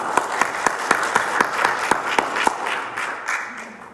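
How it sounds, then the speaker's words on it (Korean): A church congregation applauding to welcome a newcomer at a Sunday worship service: clapping from a modest group, with a few loud, evenly spaced claps standing out above the rest before it all fades away. "박수로 환영합니다"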